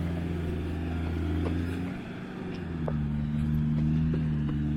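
Land Rover Defender 4WD on 35-inch tyres crawling up a rocky ridge with no lockers: a close, steady low engine drone rises and falls gently under load, with faint crunches from the tyres.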